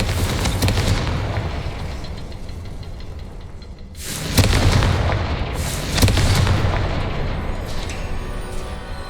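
Booming blasts from the Confringo fire spell in Hogwarts Legacy, loud and dense, with one long rumble followed by two more heavy explosive bursts around the halfway mark, all layered over a continuous game soundscape.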